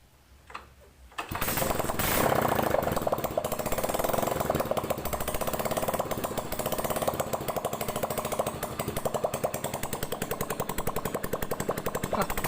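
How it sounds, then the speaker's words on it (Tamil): A Hero Splendor Plus motorcycle engine with its silencer removed starts after a brief pause and settles into a loud, harsh, rapid staccato idle, like a jackhammer, close and unbroken for the rest of the clip. "சைலன்சர் இல்லாமல் வண்டியை ஸ்டார்ட் பண்ணி பார்க்கலாம் எப்படி இருக்குன்னு பாருங்கள்"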